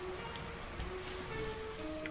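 Steady rain hiss from the video game Monaco, a dense, even wash of falling drops with faint tonal game sounds drifting over it, no voices.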